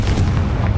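A fiery blast from an explosive spell in the game Hogwarts Legacy: a brief, dense low rumble with a boomy crackle, loud and close, with no speech over it.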